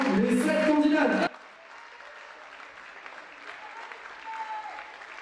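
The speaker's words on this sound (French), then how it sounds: "merci d'applaudir chaleureusement les 7 candidates" A loud voice briefly opens, then faint, diffuse applause from the audience of a Miss Belle en Forme beauty pageant greets the seven candidates, soft and distant for several seconds.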